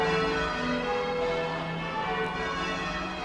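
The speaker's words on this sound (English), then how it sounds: "the bells again there in the magnificent medieval churches of Norwich" Bells of Norwich's medieval churches ring out for the Ring 2000 millennium celebration at midday, a steady overlapping peal of many tones filling the air.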